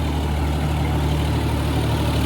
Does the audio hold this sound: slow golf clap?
no